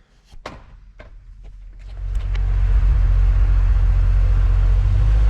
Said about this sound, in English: we are out driving the F100